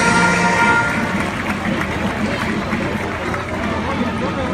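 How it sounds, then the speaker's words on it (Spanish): A crowd of spectators at a revolution-day parade applauds the police as they march past. Steady, dense clapping mixes with crowd noise under a voice speaking over it. "Ese aplauso fuerte que se escuche"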